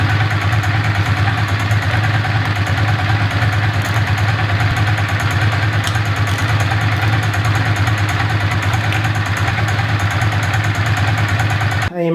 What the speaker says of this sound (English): I really just wanted the bike to warm up thoroughly